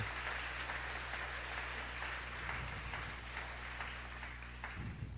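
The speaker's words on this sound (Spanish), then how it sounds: "Dele un aplauso al rey, mi hermano, porque esto es tremendo" A church congregation breaks into sustained applause, a thick, even wash of clapping from many people over a faint steady hum, continuing unbroken for several seconds with no speech.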